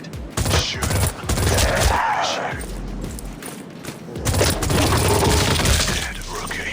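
Heavy gunfire in a VR zombie shooter, World War Z on Meta Quest 3: dense bursts of automatic shots and booms mixed with shattering impacts, loud and close, with brief game voices.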